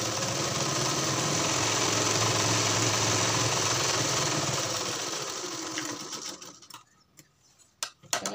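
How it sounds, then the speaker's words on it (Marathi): A sewing machine stitches along the back neckline of a blouse, running as a steady, close motor whir for about six seconds before slowing to a stop with a few scattered mechanical clicks. "मशीन फिरत फिरत व्यवस्थित गळ्याला टिक मारत घ्यायची."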